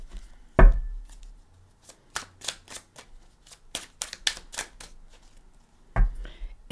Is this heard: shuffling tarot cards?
yes